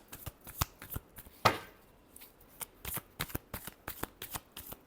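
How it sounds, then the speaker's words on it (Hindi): Tarot cards being shuffled by hand, a series of crisp, close riffling and slapping bursts in irregular rhythm, with no voices. "Last shuffle."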